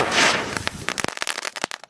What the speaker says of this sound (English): I lit some of these popping fireworks.